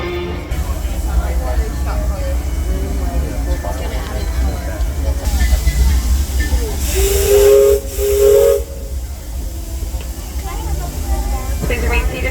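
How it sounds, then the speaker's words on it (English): The Disneyland Railroad steam locomotive Ernest S. Marsh departs, with a loud burst of steam hiss and a sustained whistle blast in the middle, set over a low chuffing rumble and crowd chatter. "Disneyland Limited now begins trip around Walt Disney Magic Kingdom"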